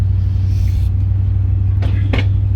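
A 1976 Chrysler New Yorker Brougham, lowered, cruising along with a steady low engine rumble and road drone from inside the car, a couple of faint brief rattles near the end.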